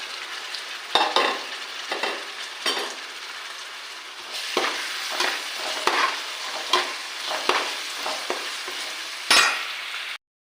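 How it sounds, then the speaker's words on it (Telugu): Onion paste with salt and a little tomato sizzles steadily in a pan for fish curry, broken by repeated scraping stirs of a spoon that come every second or so, close and fairly loud, with no talking. "ఉల్లిపాయ పేస్ట్ బాగా వేగాలండి."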